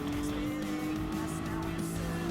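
Race car engines in Gran Turismo Sport, a steady loud droning roar with a high whine held throughout and brief tire squeal hints, continuous with no gaps.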